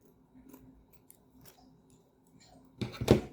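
Scissors cut through candle-making craft material in a short, sharp burst near the end, following a stretch of quiet handling sounds.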